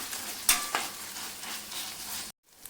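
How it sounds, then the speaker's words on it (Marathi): Ginger garlic paste sautés with softened onion in a pan, an even close sizzle with two quick spatula clinks before it cuts off abruptly near the end, no talking. "अर्धा चमचा मी आलं लसूणची पेस्ट टाकते ती पण छान एकाच मिनिटभर आपण परतून घ्यायची"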